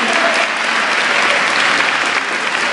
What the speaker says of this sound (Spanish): un fuerte aplauso para él que se animó a subir aquí al stage